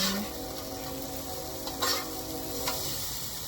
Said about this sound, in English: now I'm just waiting for those eggs to finish up golden browning